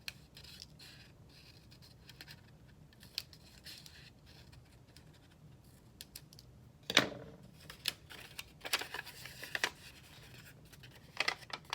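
Paper leaf shapes being cut by hand with scissors, soft close snips and crisp rustles scattered irregularly in a quiet room, with one louder cut near the middle and quicker clusters toward the end.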